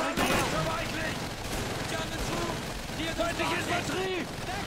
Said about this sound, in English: I shot with a gun, laddie!